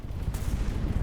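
Kinetic cannons firing from battleships in the naval combat game From the Depths: a steady, dense low rumble of continuous gunfire with one sharper burst early on, loud and without pause.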